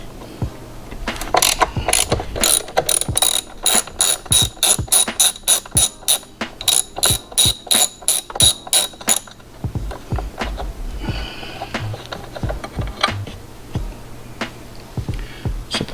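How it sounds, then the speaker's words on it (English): A ratchet with a T45 Torx bit loosens the battery ground bolt on a BMW, giving a loud run of quick, regular clicks for several seconds, then quieter scattered metallic clinks and tool handling. "So T45 Torx to loosen this ground here."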